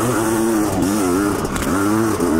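A Honda CR500 two-stroke dirt bike engine revs hard and loud up a steep hill climb, its pitch rising and falling with throttle surges throughout, close and continuous with no voices.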